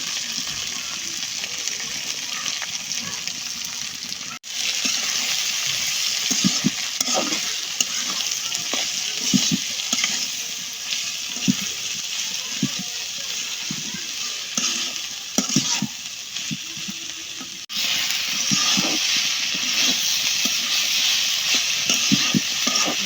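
Radish greens frying in oil over a village clay stove, a long steady hiss and sizzle with frequent rhythmic stirring scrapes, briefly cut twice, no voices.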